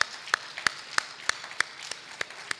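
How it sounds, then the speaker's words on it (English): Audience clapping for the Kintampo team at a research conference awards session, heard as sparse, evenly spaced individual claps rather than a full roar, fairly faint. "Let's keep clapping for Kintampo."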